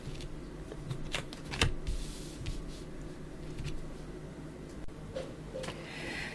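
Tarot cards shuffled and laid out on a table for a weekly horoscope reading, with soft papery riffles and a few sharper card snaps and taps, fairly quiet and close, without talk.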